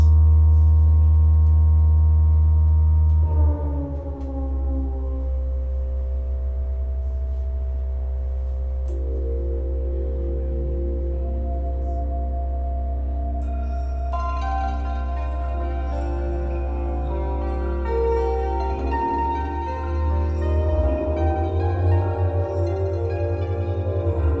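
A synthesizer holds a deep, steady low drone throughout while higher tones shift and layer above it, growing brighter and busier midway.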